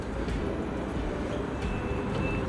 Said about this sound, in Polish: jesteśmy znowu w tramwaju